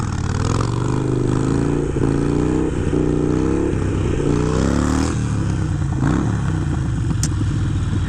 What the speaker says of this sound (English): There's nothing like the torque and power that a Harley makes, and that sound is so cool.